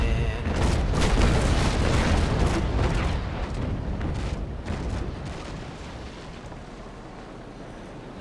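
Ship cannon fire in a Naval Action fleet battle with the USS Constitution: a dense, continuous rumble of heavy booming broadsides that rolls on for the whole stretch and slowly fades.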